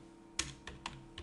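A few separate keystrokes on a computer keyboard while writing JavaScript code, quiet and close, with short gaps between taps over a low steady hum.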